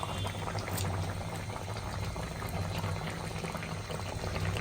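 Tilapia fish curry with coriander leaves boiling in a pot, a steady close bubbling simmer with no pauses throughout.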